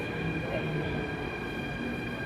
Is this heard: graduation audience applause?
no